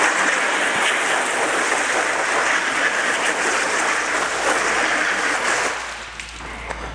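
A hose sprays water over dirty WeatherTech floor liners, a steady close hiss and splatter that cuts off abruptly near the end, leaving quieter low rumble.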